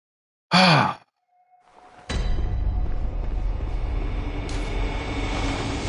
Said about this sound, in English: You can hear that big fucker breathing